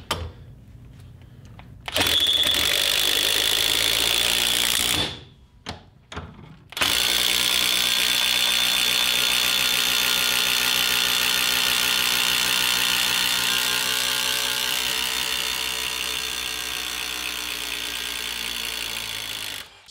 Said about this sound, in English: we'll try the 12 volt fuel impact again.